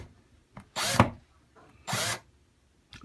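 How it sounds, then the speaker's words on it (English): A power drill drives screws to mount a Purell hand sanitizer dispenser, two short close whirring bursts separated by quiet pauses, with a faint click between them. "Now you're gonna drill those in."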